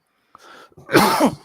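A single sharp sneeze, close and loud, preceded by a brief intake of breath.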